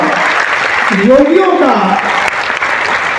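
Loud, dense applause from a large gathering at a religious fair, with a voice calling out briefly over the clapping midway through.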